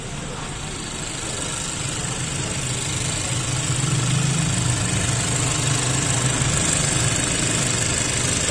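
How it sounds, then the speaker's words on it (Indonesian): After a tune-up, a Mazda CX-3 engine idles steadily with a smooth, even hum and broad mechanical noise, moderately quiet and heard nearby without talking. "masih normal, masih stabil bunyi mesinnya"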